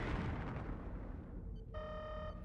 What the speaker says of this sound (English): How's large explosion sound?